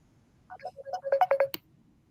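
A phone ringtone chirps in a rising series of short electronic tones that grow louder for about a second before cutting off, heard alone against a quiet background.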